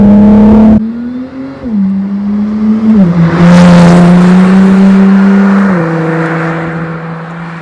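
A Honda NSX NC1 pulls away hard after paddle shifts, its engine note climbing loud and close, then dipping briefly at each gear change before rising again and easing off. No one speaks over it.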